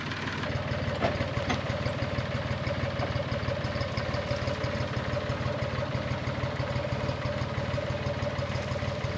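A tractor engine idles steadily nearby in a workshop setting, a constant low rumbling drone with an even rhythmic pulse and no talking over it.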